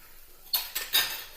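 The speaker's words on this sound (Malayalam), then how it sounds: "ഈ ഉലുവപ്പൊടിയും കൂടി അതിലേക്ക് ഇട്ടിട്ട് നമുക്ക് ഒന്ന് ഇളക്കി കൊടുക്കാം" Metal utensil clinks and scrapes against a pan as lemon pickle is stirred with fenugreek powder, three quick bright strikes close by after a quiet moment.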